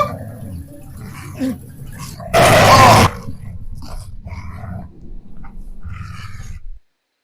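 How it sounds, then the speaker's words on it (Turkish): A dog in a video game lets out one loud, harsh growling roar lasting under a second, close and dominant over the quieter game sounds before and after it. "köpek geliyor köpek"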